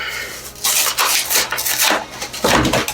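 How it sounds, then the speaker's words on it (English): Cardboard box of a hair relaxer kit being opened by hand, with several rustling, scraping rubs of the flaps and packaging, close and fairly loud, and no talking. "So let's go ahead and open up this box."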